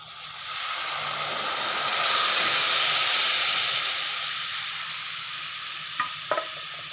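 Mung dal with fish head in a hot pan gives a loud, steady sizzle that swells in the middle and eases off, with a couple of brief clinks near the end.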